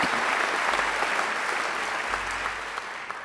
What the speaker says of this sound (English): So please give Kate another great round of applause.